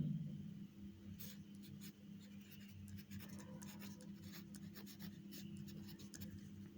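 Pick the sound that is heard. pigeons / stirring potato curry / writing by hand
writing by hand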